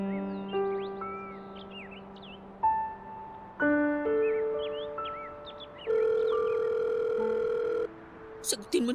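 An electronic telephone ringtone chimes through a melodic sequence of steady held tones for several seconds, fairly loud and close, before breaking off into a short burst of other sounds at the end.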